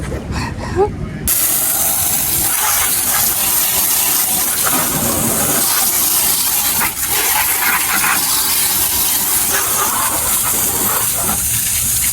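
Water runs steadily into a hot tub, a continuous broadband hissing rush that holds at a loud, even level for most of the time with no talk over it.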